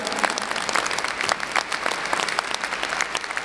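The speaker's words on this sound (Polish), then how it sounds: "Proszę o brawa." Dense, loud, continuous applause from an audience at a charity Christmas and New Year concert in Bytom, many hands clapping close together for a few seconds with no voices over it.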